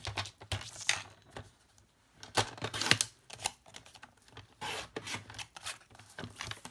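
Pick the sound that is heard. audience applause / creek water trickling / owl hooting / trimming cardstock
trimming cardstock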